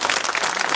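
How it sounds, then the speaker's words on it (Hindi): A village crowd at a BJP election rally in Busana claps to welcome guests, a brief dense burst of applause filling the whole moment. "तगड़ी ताली बजा करके स्वागत करो।"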